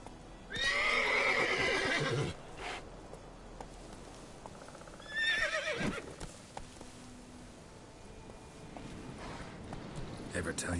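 Roach, Geralt's horse in the video game The Witcher 3, gives two loud whinnies a few seconds apart amid clip-clopping hooves, with a voice talking in between.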